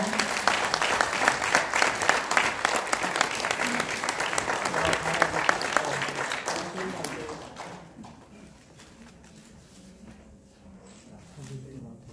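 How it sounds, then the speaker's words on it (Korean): Loud applause from an audience at an association's general assembly and award ceremony, dense clapping for about eight seconds before tapering into scattered claps and quiet room noise. "큰 박수 부탁드립니다"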